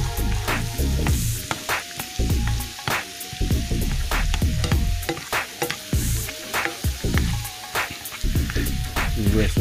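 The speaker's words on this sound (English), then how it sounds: "The rest of that butter melted up." Butter melting and sizzling in a pan on a stove set to medium-high, a dense close crackle with frequent sharp pops and scraping, loud and continuous with no talk.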